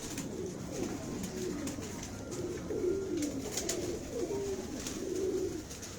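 Female pigeons from a hobbyist's loft in Bakkar Mandi coo steadily in soft, low, rolling phrases, close by and continuous over a constant background hiss.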